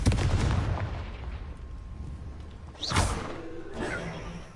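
Confringo fire spell blasts in Hogwarts Legacy boom and crackle in a loud burst, then a second swelling explosion and a fainter third one, with game effects trailing between.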